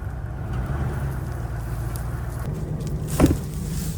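A truck uses a chain and a tire to pull out invasive plants in rainy, windy weather. A low, steady engine rumble mixes with wind noise, and a short knock sounds near the end.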